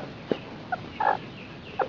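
A few short, high peeping calls from newly hatched bantam chicks, spaced irregularly against a quiet background.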